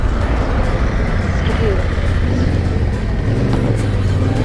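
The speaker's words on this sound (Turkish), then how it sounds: "araba var bekle bir saniye" A car passes on a road during a motorcycle trip in Italy, a steady broadband roar of tyres and engine under constant wind noise, with no clear rise or fall.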